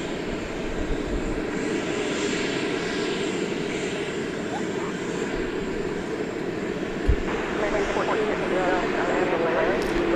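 A plane's engine roars steadily at night at DFW airport, a broad continuous rumble and whine that stays loud for the whole stretch, with people talking underneath it.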